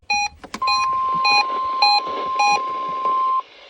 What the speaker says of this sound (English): The tones you just heard were a test of the specific area message encoding and tone alert systems.